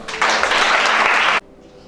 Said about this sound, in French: Acclame Shada